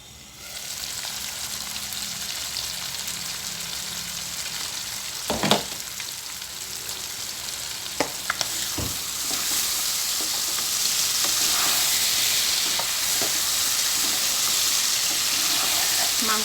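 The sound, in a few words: pork and mushrooms frying in oil in a pan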